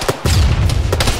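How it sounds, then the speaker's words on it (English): A radar installation explodes in the military shooter Arma 3: a sudden, loud, deep boom swells into a heavy rumbling roar that fills the whole short moment. "Radar's about to detonate."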